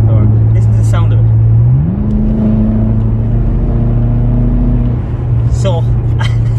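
A 734-horsepower car engine idles on a cold start with a loud, steady low rumble that steps up to a higher fast idle for a few seconds, then settles back down, and a voice talks over it briefly.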